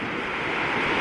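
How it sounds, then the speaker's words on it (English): Ocean waves wash onto the beach at New Smyrna Beach, a continuous broad rushing surf with some wind, steady and fairly loud throughout. "I love the sound of the ocean."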